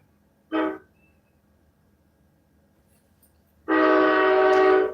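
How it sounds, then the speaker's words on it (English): A train horn sounds twice: a short toot, then after a pause a long, loud sustained blast, with no talking. "There's a really nice train conductor out there who loves his horn."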